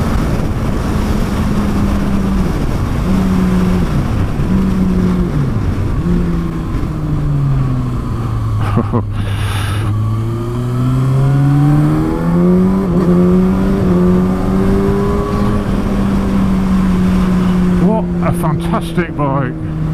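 A 2019 Kawasaki ZX-6R sport bike on the road, its engine and airbox intake loud and close, droning steadily then rising and falling through gear changes and throttle openings, with a rider speaking briefly over it.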